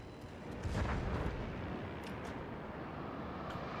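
The 15-inch guns of the battleship Queen Elizabeth in World of Warships fire one heavy booming salvo near the start. A long, loud rumble follows and fades into continuous low background roar.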